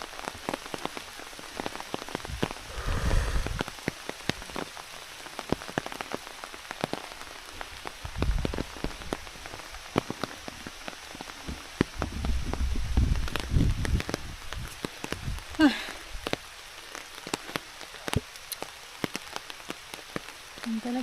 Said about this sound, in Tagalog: Nabot na naman kami ng ulan.